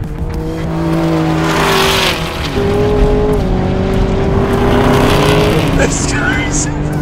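Porsche 911 Carrera S and Camaro ZL1 launch in a drag race, with engines roaring loudly up through the gears and tires briefly squealing for grip. Someone talks excitedly over the noise.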